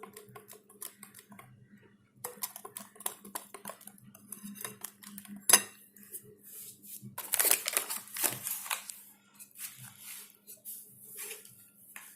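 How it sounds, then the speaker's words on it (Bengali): Cocoa powder being mixed in a bowl, with irregular scraping clinks and taps of a utensil against the dish, close and fairly quiet, in busy bursts separated by brief pauses. "কোকো পাউডারটা আমি ভালো করে মিক্সড করে নেব"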